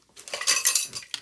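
Metal utensils clink and rattle briefly in a drawer or pot while someone rummages for a spatula, a short burst of bright, close clattering.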